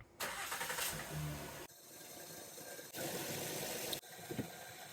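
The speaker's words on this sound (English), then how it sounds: "Now we are going to start the engine and let it run until the temperature reaches the operating temperature." A Honda J35A7 car engine cranks and starts, then settles into a steady idle. The loud mechanical running is broken by abrupt cuts and restarts.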